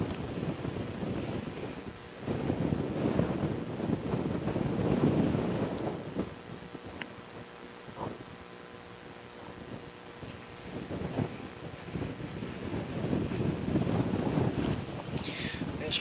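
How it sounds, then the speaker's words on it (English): Strong wind roars at Christchurch Airport, buffeting the microphone in heavy, surging gusts that rise and fall throughout, with no one speaking. "This wind is just absolutely mental right now."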